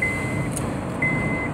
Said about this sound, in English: me get my seatbelt on. That's that beeping.